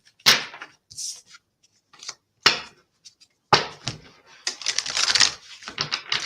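Tarot deck of 72 cards being shuffled by hand in repeated bursts of riffling and card slaps, with short pauses between shuffles and a longer dense flurry near the end.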